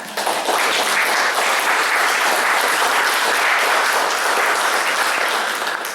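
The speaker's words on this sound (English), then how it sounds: "let's give these guys a round of applause." Loud, sustained audience applause fills the room at an evening community gathering, a thick continuous wash of many hands clapping from start to finish with no talk over it.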